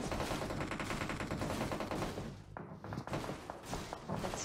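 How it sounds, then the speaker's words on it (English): Sustained Uzi submachine gun fire in PUBG Mobile, a dense rapid-fire rattle that runs almost unbroken, with a brief dip and a few heavy thuds partway through before the bursts resume, loud and close. "you're actually shooting with Uzi from this distance"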